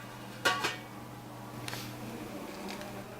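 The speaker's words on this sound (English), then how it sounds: "Put the top section onto the bottom section and place the lid" A stainless steel lid set onto a Doulton gravity water filter, one clear metallic clink followed by a fainter scrape and a soft knock, close by in a quiet room.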